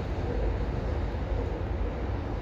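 A train rolls across the Danube railway bridge, giving a steady low rumble and rolling noise at a moderate distance that stays constant throughout with no voices.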